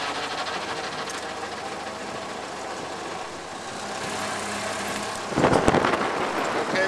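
A Ford Model A's engine runs steadily with a rattling, sewing-machine-like chug as the car creeps forward, holding a constant drone before a louder surge of engine noise near the end.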